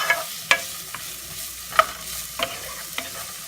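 Food frying in about two tablespoons of olive oil in a pan, with a soft sizzle under a few sharp clicks and clanks of a utensil, close and without talk.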